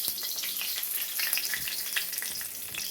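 Hot cooking oil crackles and spits steadily in a pan in a Kerala home kitchen, a close, dense sizzle with sharp pops throughout and no talking.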